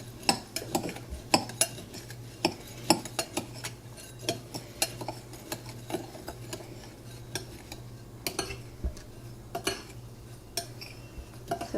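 Cinnamon sugar and chopped pecans get stirred in a bowl with a spoon, making quick irregular clinks and scrapes at close range over a faint steady hum, with no talking.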